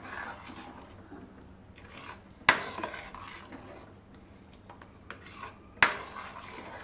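A spoon scrapes and swirls around a pot of mango kheer in repeated stirring strokes, with two sharp metallic knocks against the rim.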